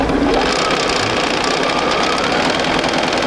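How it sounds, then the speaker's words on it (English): A sewing machine runs steadily while stitching a quarter-inch quilt seam, a loud, close, continuous whirring hum with a fast mechanical chatter and no pauses. "we're going to flip one around and sew them together right along this edge"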